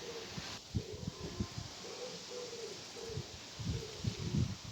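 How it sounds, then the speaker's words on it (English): Low, hooting coos from a wood pigeon repeat in short phrases against a steady background hiss, fairly close and moderately loud. "Wood pigeon."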